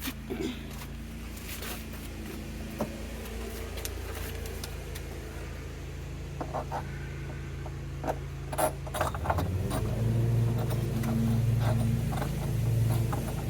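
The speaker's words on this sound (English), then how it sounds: "I'll be able to screw this all the way on there" Plastic drain fitting being threaded onto the sink of an outdoor work table, giving small clicking, scraping mechanical turns over a steady low background hum, growing slightly louder toward the end.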